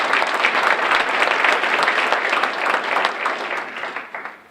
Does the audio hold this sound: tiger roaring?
no